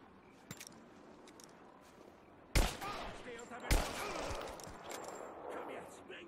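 Gunfire from the Rise of the Tomb Raider video game: a couple of sharp, loud shots cut through low background ambience, with a character voice speaking nearby.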